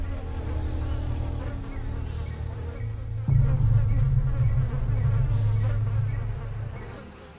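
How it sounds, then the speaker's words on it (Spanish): Flies buzzing in a dense, steady drone around a rotting carcass in a jungle, with a close, loud swarm that swells midway and holds with a rising and falling whine, no voices. "A estas moscas las cazan, pero son un objetivo difícil que se mueve mucho."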